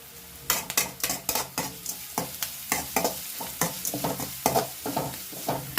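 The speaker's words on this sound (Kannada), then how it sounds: "ಸ್ವಲ್ಪ ಫ್ರೈ ಆಗಲಿ." Ingredients for upma fry in ghee in a pan, with a busy stream of sharp stirring scrapes and clinks over a soft sizzle, close and fairly loud, and no talking.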